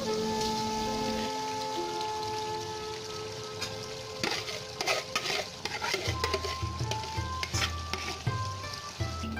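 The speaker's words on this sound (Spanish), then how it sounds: "Después de esto vamos a hacer un pequeño huequito ahí como podamos en el centro de nuestro wok y agregamos los huevos batidos" Beaten eggs frying in sesame oil in a wok for fried rice, a close, crackling sizzle under a steady hum, turning into busy scraping and rapid stirring clatter as they are tossed around.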